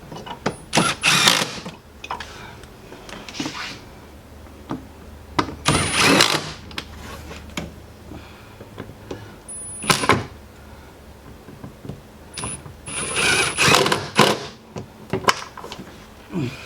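Screws driven back into the air filter housing of a 2008-2017 Enclave, Traverse, Acadia or Outlook: several short bursts of a whirring driver and rattling plastic with clicks and gaps between them, close and fairly quiet.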